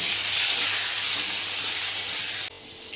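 Pointed gourd (potol) dusted with a little turmeric fries in hot oil in a home kitchen, giving a steady, loud, hissing sizzle that holds for over two seconds and then abruptly drops to a softer hiss.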